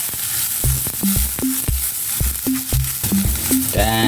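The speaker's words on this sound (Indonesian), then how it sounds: "Untuk tumisan pertama Lik, saya akan menumis dulu jamure." Mushrooms stir-fry in a pan with a steady sizzle, while repeated knocks and scrapes of a utensil against the pan come at an uneven rhythm, close and loud.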